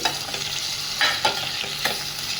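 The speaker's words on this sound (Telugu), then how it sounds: "ఇప్పుడు టమోటాలు యాడ్ చేసుకున్నాం. టమోటాలు కూడా కొంచెం మగ్గాలి." Chopped tomatoes fry in hot oil with a constant sizzle, broken by a few sharp scraping stirs of a spoon against the pan.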